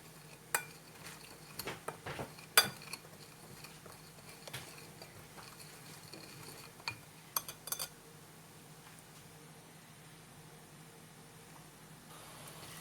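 Masala spices are stirred with a little oil in a bowl, heard as faint, scattered clinks and scrapes of a spoon against the bowl that thin out and fade toward the end, without any talking.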